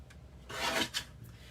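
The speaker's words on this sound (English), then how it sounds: "I'm just gonna trim this down, and I'll go a little bit inside that" A single short rasping stroke as a paper trimmer slices through card stock, a soft scrape that swells in the middle and fades, close and quiet with no talk.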